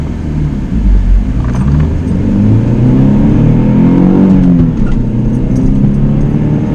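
Chevrolet Cavalier accelerating hard from a standstill on a road in Mexico, engine revving loud and close with rising pitch through gear changes and a steady rumble, no talking.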